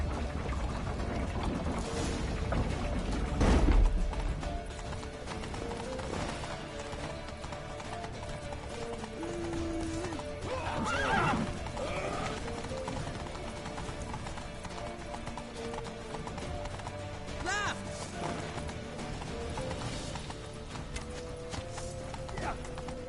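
Horse hooves clip-clop in a rapid, rhythmic gallop throughout in The Witcher 3, steady and fairly close, with occasional whinnies and snorts, a music bed underneath and a heavy thud near the start.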